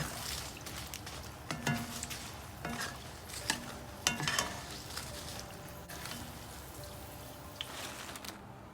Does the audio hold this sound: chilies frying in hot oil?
yes